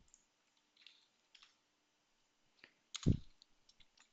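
Scattered key clicks on a computer keyboard while code is typed, quiet and sparse with short pauses, plus one louder thump near the end.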